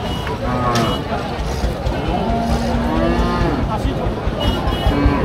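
Cattle, including bulls and heifers, moo repeatedly at a busy cattle market, several long calls rising over a constant crowd murmur and nearby voices.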